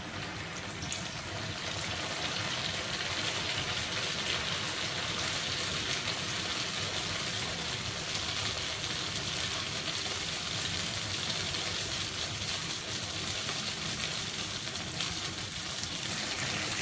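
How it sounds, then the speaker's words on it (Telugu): Donuts deep frying in hot oil, a steady, even sizzling hiss that continues unbroken throughout, moderately loud with no voices. "చూడండి, ఇప్పుడు డోనట్స్ బాగా వేగుతున్నాయి"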